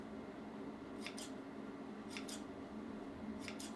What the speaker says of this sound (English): now I'm gonna point cut